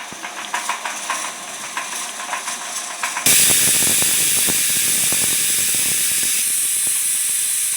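A pressure cooker on the stove, cooking a Konkan wild leafy vegetable, goes from a light rattle to a sudden, loud, steady rush of steam hissing through its whistle. The hiss holds without a break to the end.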